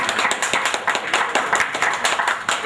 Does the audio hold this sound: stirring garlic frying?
no